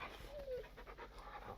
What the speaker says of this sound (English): Always got to pat the dog.